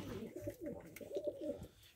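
Pigeons in a coop give soft, repeated throaty coos in a quiet run of calls, faint and close.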